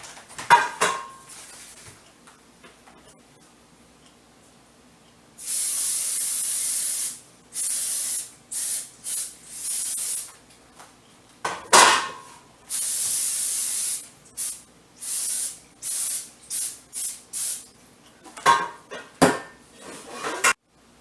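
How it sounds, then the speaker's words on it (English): Aerosol cooking spray hisses onto parchment paper and the sides of cake pans in a long burst followed by a series of shorter, loud close sprays, with a few clinks of pans between. "so I'm going to spray the paper and the sides of the pans"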